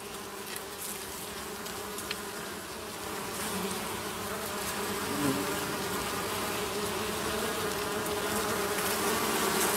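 Dense, steady buzzing of many honey bees inside a hive, a continuous close hum that swells slightly partway through and carries on without any voices.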